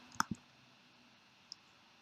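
Computer mouse clicking on a website menu: a quick double click close up, then a single click a second later, in a quiet room.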